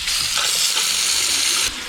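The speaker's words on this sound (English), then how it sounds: "Now, the way I like to thaw these out is I use the sink. Just hit it with some warm water." Warm tap water runs into a kitchen sink to thaw frozen venison, a steady close hiss of flowing water that continues for almost the whole clip, then eases slightly.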